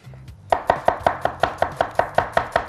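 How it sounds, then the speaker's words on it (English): A knife slices through two onions on a chopping board, fast steady even cuts, about a dozen sharp close knocks in a regular rhythm after a short quiet start, with no talking. "We'll slice two onions up."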